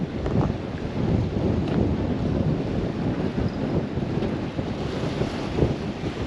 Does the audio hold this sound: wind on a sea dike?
yes